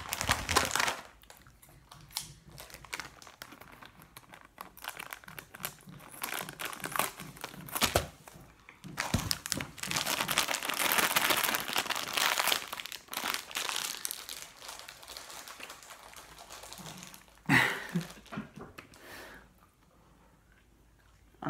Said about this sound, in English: Opening these type of bags are a pain in the ass.